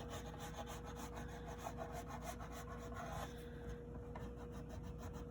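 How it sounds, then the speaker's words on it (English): Crayon pressed hard and rubbed across paper while coloring, a quick run of scratchy back-and-forth strokes over a steady low hum, quiet and close, fading out after about three seconds. "I'm gonna keep pushing hard with my crayon"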